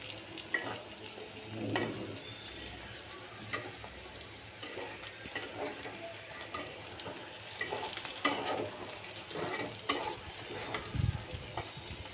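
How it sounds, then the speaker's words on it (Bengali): Pointed gourd fries with onion and green chilli in a pan, giving a steady close sizzle broken by repeated scraping stirs. No one talks. "পেঁয়াজ কাঁচামরিচ দিয়ে পটল ভাজলে খেতে বেশ ভালো লাগে।"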